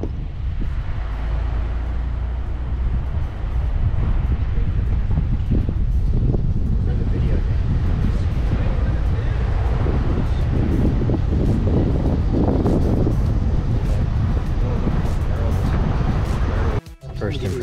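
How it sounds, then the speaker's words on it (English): Strong wind buffets the microphone in a constant loud roar at Sylvan Lake, South Dakota, with a voice speaking faintly underneath. "Windy."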